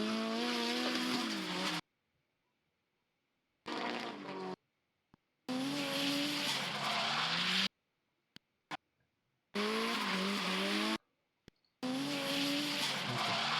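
A BMW and a Mercedes S-Class drifting, their tires giving loud, wavering squeals in several separate bursts cut by near silence between them, heard alone without talking.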